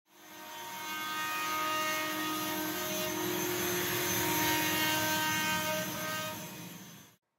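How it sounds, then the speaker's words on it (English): A vacuum held beside a fine cutting tool pulls up silica dust while grout is cut out of a corner joint in a tumbled marble floor, making a loud, steady, whining drone throughout with no talk. "He's using a fine supercut and just holding the vacuum to suck up all the silica dust."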